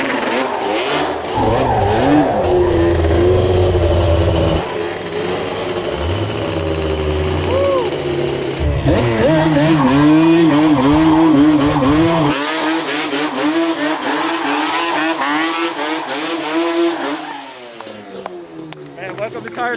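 Corvette engine revving hard while driven aggressively, loud rising and falling engine tones with gear changes and tire noise, close and dominant throughout, with people talking over it.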